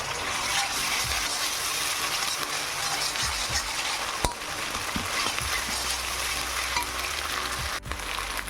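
Ground spice paste of ginger, garlic, black pepper and cumin sizzles steadily in a hot pan for mutton kosha, a continuous close crackling fry with a few sharp clicks and no talk.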